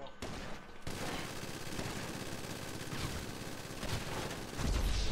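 Rapid bursts of automatic gunfire crackle continuously with loud explosive thumps, a dense firefight in GTA V Online with no pauses.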